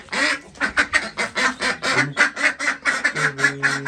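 Ducks quack in a quick, regular run of loud, nasal calls close by, about a dozen sharp bursts in steady rhythm with no talking.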